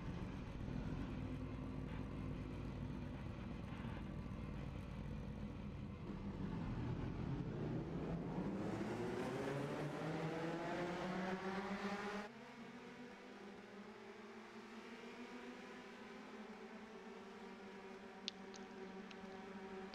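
Race cars roll off at Watkins Glen in a rising, droning chorus of engines that climbs in pitch as the pack accelerates, then a steadier lower hum from a distance.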